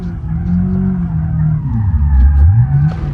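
A BMW E36 318is in BeamNG Drive, its engine droning steadily as the car's rear takes a hit on winding Italian roads, the pitch sliding and swelling with a low rumble and no voices.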